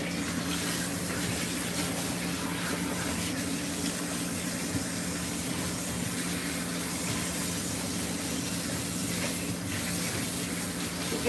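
Running water pours steadily over a long-haired cat being rinsed during a bath, a continuous close spray with no pauses and no talking.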